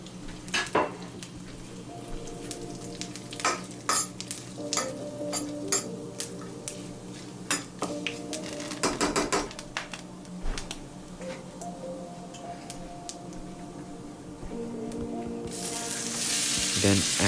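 Whole garam masala spices crackle and sizzle steadily in hot oil, with occasional clinks and scrapes of stirring against the pan, and the frying grows louder toward the end.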